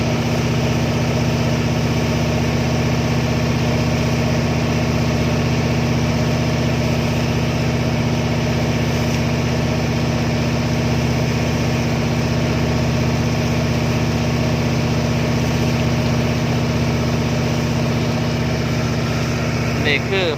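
Tugboat engine idling at the mouth of Pattani Bay on the Gulf of Thailand, a steady loud low diesel drone with a strong hum and vibration running unbroken throughout, with faint voices mixed in.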